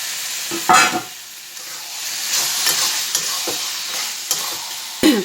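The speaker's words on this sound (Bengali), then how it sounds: "মুরগির মাংসগুলা দিয়ে দিচ্ছি" Pieces of country chicken dropped into frying spice paste in oil, a loud hissing sizzle with sharp knocks as they land and repeated stirring scrapes throughout.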